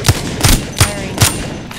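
Gunfire from a player's weapon in the battle royale game Apex Legends: four sharp, evenly spaced shots about a third of a second apart, loud and close, with a faint fifth at the end.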